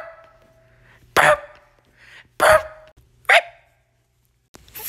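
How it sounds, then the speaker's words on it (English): A dog barks three times in separate loud bursts, close by, with short quiet gaps between them and a low hum underneath. "Fetch, can you stop barking at the TV?"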